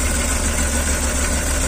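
A car engine converted to run on compressed natural gas (BBG) idles steadily just after starting, a loud, continuous low rumble close by with no talk over it.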